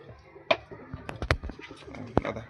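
Low cooing from a female white-faced Giribaz pigeon, heard close in a short burst, mixed with sharp handling knocks and rustles.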